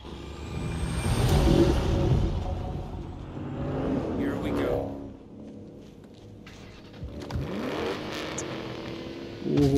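A truck rumbles in during a desert highway heist in Need for Speed Payback, its engine droning and swelling up close with a hiss like an air brake, as a voice talks over it.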